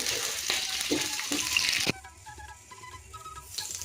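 Chili powder tipped into hot oil in a pan over other fried spices, a dense steady sizzle that drops to a quieter crackle with small scattered pops partway through.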